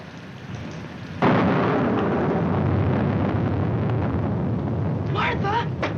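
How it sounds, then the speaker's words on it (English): A loud crack of thunder bursts in about a second in, then rolls on as a heavy, sustained rumble over steady rain noise, set in a 1946 film drama, with brief tonal sounds near the end. "I'm afraid of the thunder and lightning."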